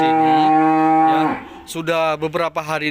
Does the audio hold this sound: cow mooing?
yes